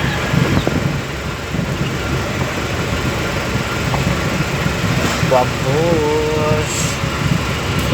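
Inside a car driving fast on a road, a continuous loud rumble of engine and road noise with a brief whine near the end, with a person speaking over it.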